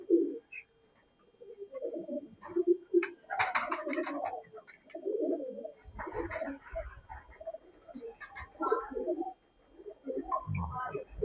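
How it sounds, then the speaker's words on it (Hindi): Soft, low pigeon coos repeat in short bursts, with rustling, a few sharp clatters and a faint bark now and then. "एक से एक बढ़ के बट साहब आज कबूतर दिखा रहे हैं टैडी"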